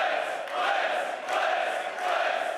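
A packed esports arena crowd at a Counter-Strike major semi-final roars continuously, a dense sustained wash of cheering and shouting with slight swells and no clear single voices.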